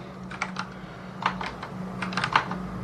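Keys tapped on a computer keyboard during typing exercises, a few soft scattered clicks in small clusters over a steady low hum, fairly faint.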